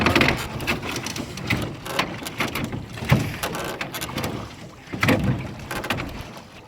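Wooden knocks and creaks with splashing water as a wooden boat is rowed, the oar strokes coming in irregular bursts close by.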